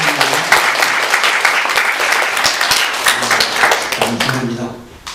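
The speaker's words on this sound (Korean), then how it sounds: "우리 모든 분들을 환영하면서 박수로 격려하겠습니다" A church congregation at a Sunday service applauds in a loud, steady wash of clapping that fades near the end, with voices faintly underneath.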